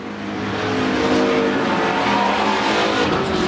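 Pure Stock race cars roar around the Central Arizona Speedway oval, a dense, loud wash of engines building in the first moments and then holding steady, with faint tire noise mixed in and no voices.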